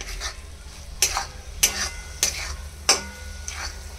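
Roasted coconut being stirred into melted jaggery in a pan, a spoon scraping and clinking against the metal in about five sharp strokes over a soft sizzle.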